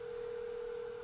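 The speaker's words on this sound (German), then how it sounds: "Telefongeräusche." Telephone tone in Resident Evil 7 played in PlayStation VR, a single steady electronic tone held without a break, close and alone.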